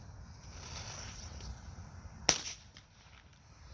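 A single Mighty Mite firecracker goes off at a Canada Day gathering in Surrey, BC, a sharp close crack with a short tail, standing alone over faint outdoor background noise.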